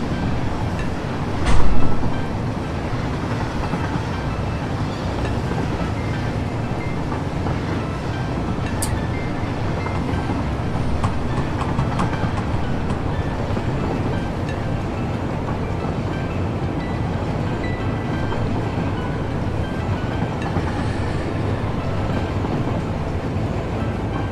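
A video-game train slows on its rails for path signals, giving a steady rolling rumble with faint clicking and one brief thump near the start, loud and continuous throughout.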